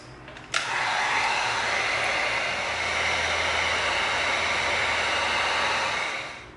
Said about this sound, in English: Now we're gonna heat seal this.